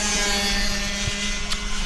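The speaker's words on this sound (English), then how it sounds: "certainly get some heat in that engine now as he floors it down the start-finish straight to catch the pack back up" Racing kart engine at an IAME Nordic Cup Mini heat, held at full throttle down the start-finish straight, a steady loud buzzing drone with a faint whine rising near the end.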